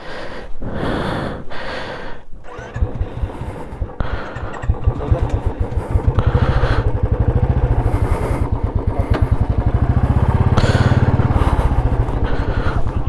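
A Royal Enfield Classic 350 motorcycle stuck in snow idles and revs in a loud, steady thump, growing stronger midway, with a few brief bursts of noise and breathing near the start.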